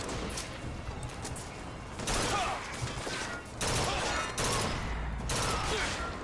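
Bursts of gunfire from a gun in the video game Bioshock Infinite, several loud, heavy volleys in quick succession with short lulls between them, close and dominant over faint game background noise.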